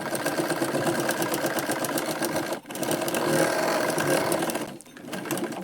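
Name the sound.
sewing machine stitching a katori blouse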